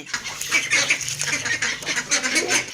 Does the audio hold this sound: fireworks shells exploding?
no